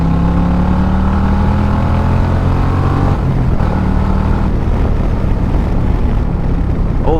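An Indian Challenger Powerplus motorcycle fitted with Lloydz Garage Performance 530 cams revs hard, a loud, close engine roar climbing in pitch, briefly shifting, then pulling again continuously under heavy load.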